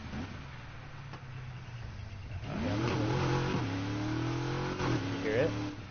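A car engine in the NFS Heat racing game idles low, then revs up in rising, climbing surges that hold at a loud, steady pitch with a few more throttle blips near the end.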